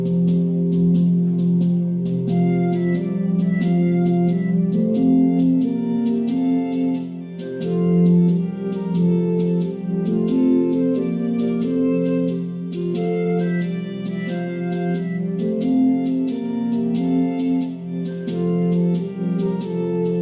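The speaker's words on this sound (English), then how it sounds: "That sound is the drone." A recording of the medieval round Summer Is A-Comin' In, with voices or instruments over a sustained low drone that holds steadily throughout; full and continuous, with no talk.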